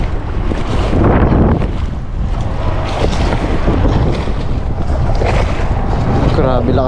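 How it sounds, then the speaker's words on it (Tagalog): Strong sea wind roars continuously across the microphone on a fishing outing just after a typhoon, with waves and boat noise underneath and a voice faintly audible at times. "Grabe lakas ng hangin."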